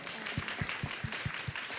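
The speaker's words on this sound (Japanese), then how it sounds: "拍手でお願いします" Applause from a film Q&A audience honouring a director and voice actress, quiet and fairly distant, with steady clapping and a few stronger thumps about every quarter second over a hushed room.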